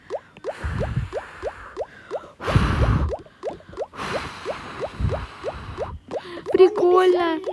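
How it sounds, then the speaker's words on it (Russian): Soap bubbles popping and splashing in the Toca Boca (Toca Life) game, a run of short bright watery blips and squishy bursts repeating in quick rhythm, with louder splashy swells and a rising gurgly tone near the end, no one talking. "Мыльные пузыри!"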